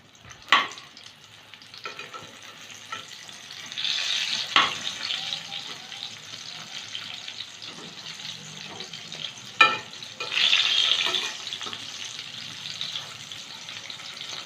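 Stuffed ash gourd slices fry in a pan with a steady, soft sizzle, broken by a few sharper clatters and louder bursts of spitting oil around the fourth and tenth seconds; no one speaks.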